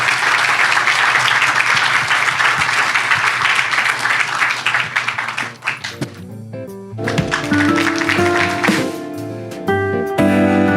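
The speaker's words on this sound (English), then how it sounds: "But do want to give a round of applause to our panel and our models" A conference audience gives a panel a dense, sustained round of applause that fills the room for several seconds. It then thins out as music with steady notes comes in.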